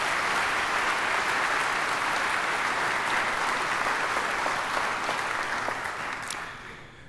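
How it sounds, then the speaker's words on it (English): Sustained audience applause fills a governor inauguration ceremony in Mississippi, a dense wash of clapping from a large crowd that holds steady for several seconds before tapering off at the end. "Please give them a round of applause."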